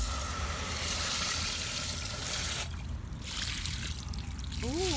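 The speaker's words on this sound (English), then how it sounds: "We're gonna rinse them off to see what they look like" Water runs over tumbled rocks held in an old sifter, a loud, close, continuous rush that eases briefly in the middle before building again.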